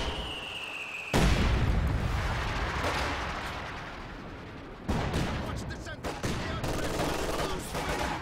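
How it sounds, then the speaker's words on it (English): Grenade blasts and gunfire from the World War II strategy game Company of Heroes 2, with heavy bursts of explosions and rattling shots in a fight across a castle wall; a loud blast near the start, another near five seconds, continuous battle noise between. "Grenades exchanged here across this castle wall. More grenades thrown in, Molotovs."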